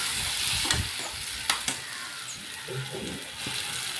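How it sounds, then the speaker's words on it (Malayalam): Tomato, onion and green chilli sauté in a pan with a low sizzle, broken by a few sharp scrapes and knocks of a stirring utensil. "തക്കാളിയും ഉള്ളിയും പച്ചമുളകും ഒക്കെ ഇട്ടിട്ട് നല്ല രീതിയിൽ തന്നെ ഒന്ന് വഴറ്റുന്നുണ്ട്"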